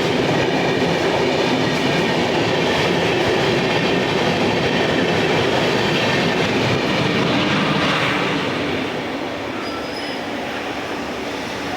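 The Gaya–Delhi Amrit Bharat Express runs on the rails with a loud, continuous rumble and rhythmic wheel clatter heard from on board, easing slightly toward the end.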